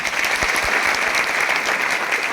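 Steady, dense audience applause at a business gathering in Jaipur, loud and even, many hands clapping continuously for a couple of seconds.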